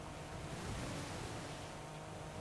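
A car driving through water in the Forza Horizon 5 racing game, a dense, steady rushing wash of spray and splashing with low rumble underneath, loud and continuous with no talk.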